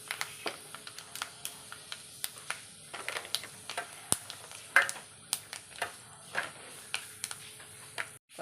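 Mustard seeds and fenugreek seeds crackle and pop in hot coconut oil, a quiet, steady run of sharp ticks and small bursts spread irregularly through the stretch, with no talking.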